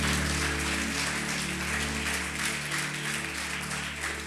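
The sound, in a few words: congregation applauding in church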